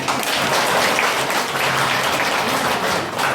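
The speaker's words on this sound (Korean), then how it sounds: "통장님들 고생 많으셨는데 격려의 박수 한번." Audience applause at a neighborhood leaders' council meeting, dense steady clapping from many people throughout, loud and sustained without pause.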